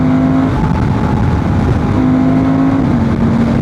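A Honda Transalp 750 motorcycle with a remapped ECU holds a steady rev around 4000 RPM, a loud, continuous engine drone close by with a slight dip in pitch near the end.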